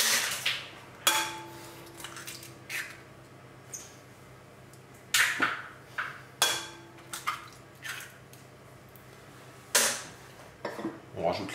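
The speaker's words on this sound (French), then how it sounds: "On va casser les œufs dans un saladier." Three eggs cracked against a salad bowl, sharp, clear taps and clinks spaced apart over a quiet kitchen, some followed by soft shell and bowl knocks.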